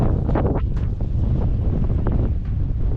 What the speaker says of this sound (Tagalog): Grabe lakas ho ng hangin dito mga kabisig.